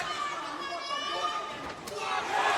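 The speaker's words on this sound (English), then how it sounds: "McGregor's also got a packed hall here in Dublin, right behind him, cheering on every single one of his movements" A packed hall crowd in Dublin cheers on Conor McGregor during a UFC fight, a dense roar of shouting and chatter that swells louder toward the end, with a commentator's voice blended into the noise.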